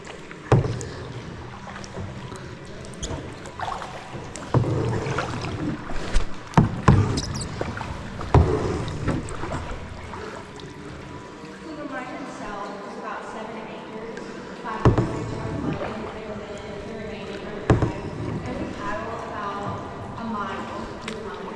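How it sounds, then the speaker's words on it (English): Kayak paddles knock and splash through water in a flooded 100-year-old underground limestone mine, with scattered strokes and hollow thumps echoing in the enclosed space while people talk throughout. "we'll be paddling about a mile total"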